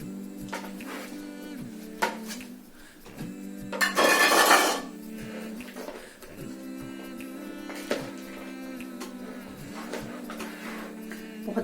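Chopped vegetables for a Caesar salad being mixed in a bowl, with quiet scraping and clinking of utensils against the dish over a steady hum and a brief, louder burst of rustling tossing midway.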